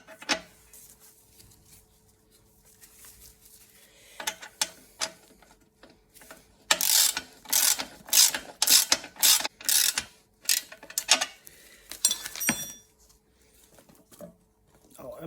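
Ratchet wrench tightening a nut on a rear suspension bolt of a Rover 75/MG ZT, quick bursts of close, sharp clicking in several runs with pauses between, under a faint background hum.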